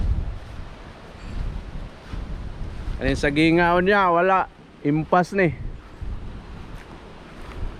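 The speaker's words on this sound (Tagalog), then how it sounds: "Grabe yung bagyo to." Strong storm wind on an island roars and buffets the microphone as a broad, fluctuating rush, with people talking loudly over it midway.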